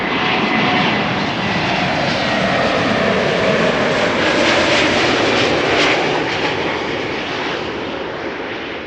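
JetBlue Airbus A321neo arriving at Amsterdam Schiphol from Boston, a loud, steady broadband engine roar that holds close and strong throughout, easing slightly toward the end.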